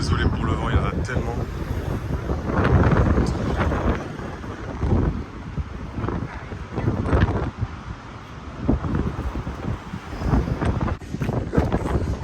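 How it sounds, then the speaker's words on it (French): Strong wind buffets the microphone outdoors at a carspotting session, a continuous rough low roar that swells and dips throughout, with a person speaking over it. "Désolé pour le vent, il y en a tellement."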